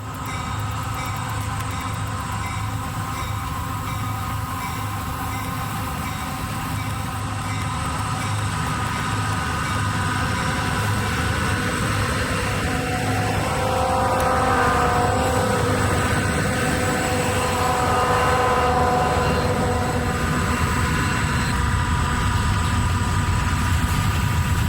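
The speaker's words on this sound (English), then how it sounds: "Train R518 has its work cut out for it as it grinds slowly upgrade with 2 EMD units northbound just south of Turner." Freight train with two EMD diesel locomotives grinding slowly upgrade northbound near Turner on a CSX line, 1995: a steady, loud low engine drone and rumble, swelling slightly midway, with tonal whine above it and no voices.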